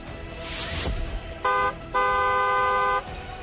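A car horn honks twice close by over passing traffic noise, a short beep followed by a longer, sustained blast.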